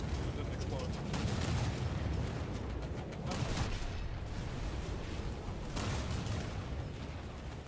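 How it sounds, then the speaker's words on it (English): Broadside salvos from a German heavy cruiser, the Admiral Hipper, in War Thunder naval battles: deep booming gunfire rolling over a constant dense rumble of battle noise, several heavy bursts spread across the stretch. "Full broadside."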